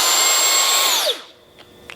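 GRABO High Flow 20-volt cordless vacuum running with a loud high whine for about a second, then spinning down in a falling pitch sweep as the motor stops, followed by faint clicks.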